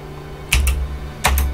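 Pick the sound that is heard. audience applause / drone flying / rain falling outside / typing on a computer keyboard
typing on a computer keyboard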